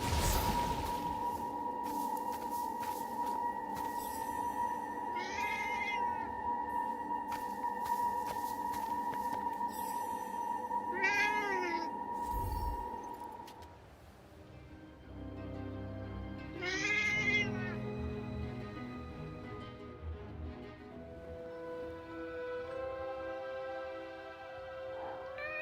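Cat meowing in the Forspoken game, several drawn-out rising and falling meows spaced apart over a soft musical backdrop, fairly close and clear.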